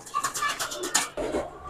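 Caged pigeons up for sale, a group of seven Teddy and chapray kabootar, give soft, close, repeated throaty coos and rustles in a brief burst.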